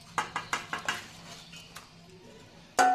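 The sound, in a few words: tangra fish and chopped coriander added to boiling curry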